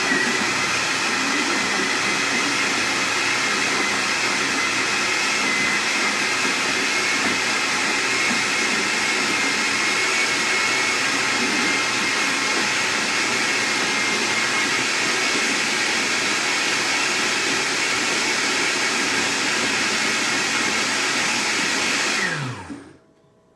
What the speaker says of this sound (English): we'll put the pieces to the blender here